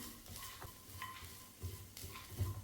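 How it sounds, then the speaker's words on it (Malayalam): Snack ingredients are stirred and roasted in a pan, with a faint sizzle under the occasional scrape and clink of a utensil against the pan. "ഇതിപ്പോൾ ഇവിടെ ഒരു 2 മിനിറ്റ് ഒന്ന് ഈ ഒരു രീതിയിലൊന്ന് റോസ്റ്റ് ചെയ്തെടുത്തിട്ടുണ്ട്."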